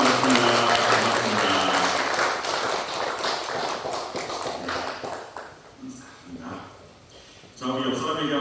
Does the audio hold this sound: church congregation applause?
yes